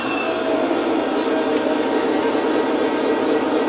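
A model SD80MAC locomotive engine idles with a steady, continuous mechanical hum and hiss, even and unbroken throughout, fairly loud and close with no talking.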